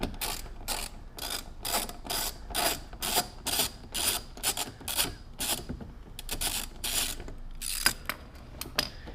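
A ratchet wrench loosening a bolt on a 2017 Honda Civic Si, with a long run of rapid, close clicking bursts in a steady back-and-forth rhythm and a few slower strokes near the end.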